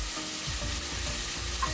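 Chili and curry leaves sizzle in a frying pan with a steady crackling hiss and light stirring, close and continuous, no voices.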